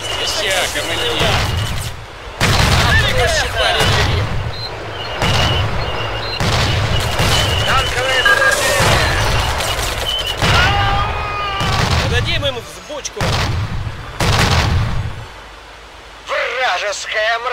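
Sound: artillery cannon fire from a video game

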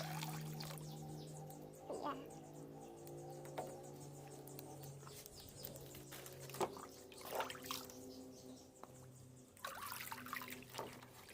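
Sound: pouring prepared water into hydroponic container

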